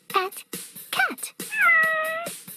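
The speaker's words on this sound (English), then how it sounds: "At, cat." A cat meows several times in quick succession, short high mews and then one longer drawn-out meow, close and clear.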